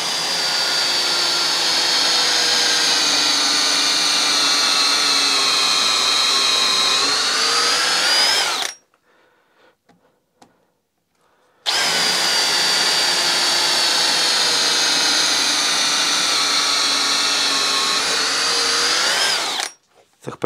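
A Parkside Performance cordless drill in second gear bores with a long 10x300 bit, giving two sustained, loud whining runs separated by a few seconds of near silence, each ending abruptly.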